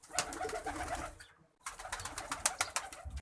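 Cartoon pigeon cooing in repeated soft, throaty bursts, a brief silent gap midway before the cooing resumes, close and clear with no talking.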